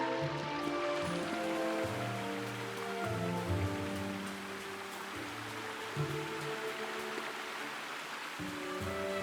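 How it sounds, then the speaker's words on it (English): A small waterfall in the fantasy village game Tales of the Shire pours in a constant rushing, splashing hiss, with soft melodic background music layered beneath the steady flow. "So this is a kind of a waterfall."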